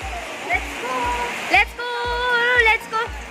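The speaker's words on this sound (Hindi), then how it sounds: "देखो बारिश इतना जोर से दिया" Heavy rain pours steadily outdoors during a festival outing in Dima Hasao, a dense hiss of falling water, with people talking and calling out over it.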